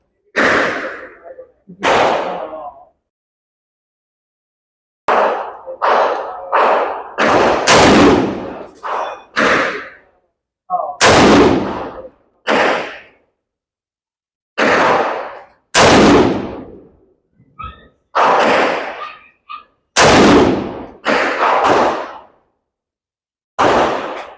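A Sarsilmaz SAR 56 pistol fires at a shooting range: loud, sharp shots in quick clusters and short runs, separated by brief pauses, close by.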